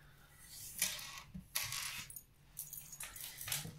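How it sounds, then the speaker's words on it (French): Small metal charms jangling and clinking in a few short bursts as they are taken off, fairly close and quiet, with gaps of near silence between. "je vais enlever les breloques."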